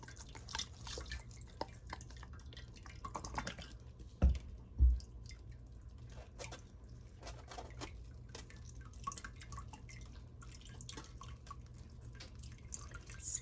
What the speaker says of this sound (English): I'm just gonna wash it with some distilled water.